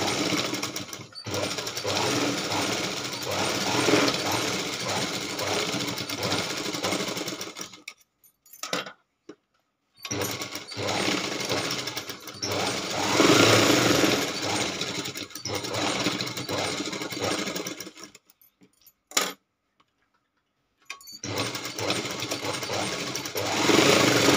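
A sewing machine runs close by in several bursts, stitching a 1.5-inch seam on a blouse. Each burst is a fast, even mechanical chatter, broken by a few short silent pauses between runs.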